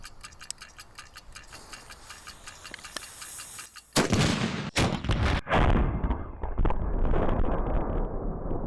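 A person shot from a circus cannon at a sports event: faint ticking over a noisy background, then a sudden loud blast that gives way to a sustained, roaring rush of noise with sharp cracks.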